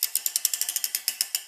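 Processed sound effect built from chopsticks striking a radiator, heard as a rapid series of about a dozen sharp, bright, tinny metallic clicks with the low end removed, evenly spaced and close up.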